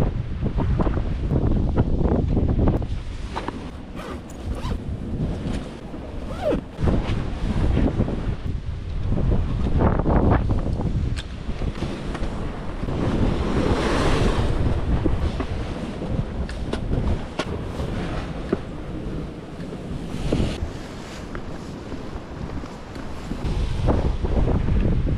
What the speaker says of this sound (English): So many waves here.